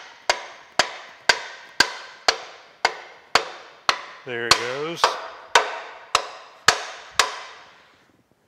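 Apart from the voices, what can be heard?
brass hammer tapping boring mill table part into place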